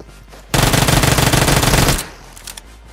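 Rapid automatic gunfire from PUBG Mobile sounds as a loud, continuous burst of about one and a half seconds while the player shoots a bot, followed by a few faint distant shots.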